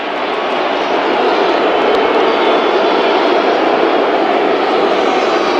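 A roaring stadium crowd at a 1987 NFL football game between the Los Angeles Raiders and Seattle Seahawks, a loud, dense, unbroken wash of noise holding steady for the whole stretch with no voice over it.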